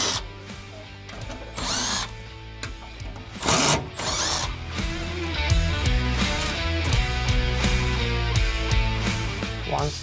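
Power driver backing 1/4-inch screws out of furnace burners during a natural gas to LP conversion, with a steady whirring motor hum broken by a few louder bursts, close and continuous, with no talking.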